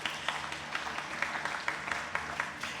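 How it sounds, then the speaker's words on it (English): An audience at a pitch event stage applauding for a co-organizer, a steady patter of many hands clapping at moderate volume, heard from within the room. "I want to take this chance right now to ask you to help me to applaud for Jessie"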